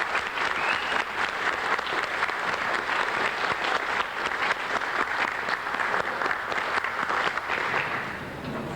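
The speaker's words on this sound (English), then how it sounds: "let's hear a warm, loud ovation for Bruce Carlson" Loud, steady applause from a seminar audience welcoming coral propagation speaker Bruce Carlson, sustained dense clapping throughout that thins slightly at the very end, with no talking over it.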